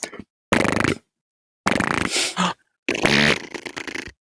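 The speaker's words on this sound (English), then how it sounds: "ASMR farting for like an hour" Close, loud farting comes in three or four separate bursts, some long and sputtering, with clean silence between them.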